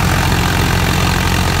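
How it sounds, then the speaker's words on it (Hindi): A tractor-driven belt cutter runs at 1800 RPM with a loud, steady, low engine drone that continues unbroken throughout the short stretch, and no voices are heard. "भाई, 1800 RPM पर कर दिया कटर"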